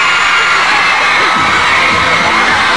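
A large crowd of Backstreet Boys fans in New York City cheers and shouts loudly and continuously, with high-pitched screams and whoops over a dense roar.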